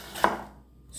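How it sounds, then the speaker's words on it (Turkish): A knife slices through a red onion on a board, one crisp, close chop followed by quiet. "2 adet mor soğanımı jülyen şeklinde doğruyorum."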